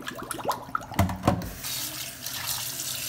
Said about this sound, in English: I'm gonna go ahead and rinse these